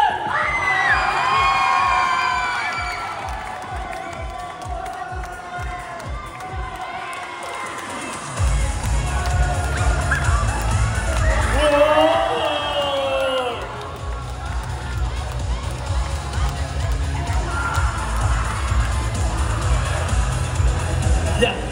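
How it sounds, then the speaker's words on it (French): Crowd at a cosplay parade during a Japanese otaku festival in Troyes, cheering and whooping loudly with shouts throughout, plus a steady low rhythmic pulse of music or drumming underneath. "j'aimerais vraiment un applaudissement pour Angel Dust, l'araignée de Has-Been Hotel."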